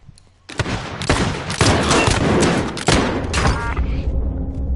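Sustained burst of video game gunfire, loud and dense, with overlapping shots and booms rolling for several seconds after a brief quiet start.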